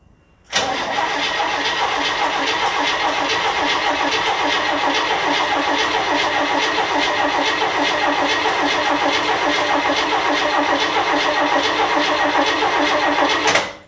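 A 1964 Chevrolet Impala, revived after 26 years off the road, cranks and fires into a loud, steady engine run, close up and alone with no talk, for about thirteen seconds before cutting off.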